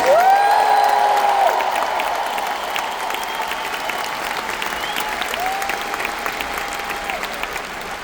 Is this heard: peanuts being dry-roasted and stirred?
no